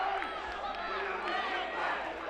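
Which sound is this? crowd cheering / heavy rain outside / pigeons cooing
crowd cheering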